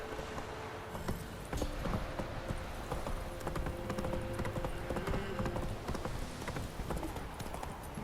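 In The Witcher 3, the horse Roach gallops with quick, rhythmic hoofbeats that sound close and continuous over a busy game soundscape, and a voice speaks briefly.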